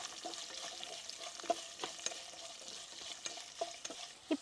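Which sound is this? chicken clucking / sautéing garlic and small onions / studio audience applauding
sautéing garlic and small onions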